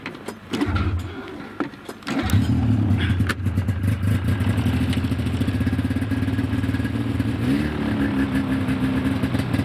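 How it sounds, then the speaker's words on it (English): A small engine on half choke is pull-started: a couple of quick cord yanks, then it catches and settles into a loud, steady, close running drone that holds to the end. "Probably gonna need a couple of pulls to start it."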